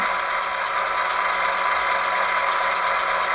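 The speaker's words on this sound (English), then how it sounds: "Function 11 is the radiator fan" Radiator fan sound effect from a ScaleTrains Rivet Counter Southern Pacific SD7R model locomotive with a LokSound 5 DCC decoder: a steady, unbroken mechanical whir with no variation.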